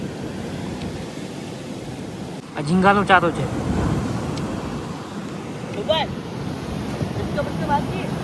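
Sea surf washes steadily onto a beach where people are fishing, a continuous broad rushing under wind noise, while someone talks briefly over it.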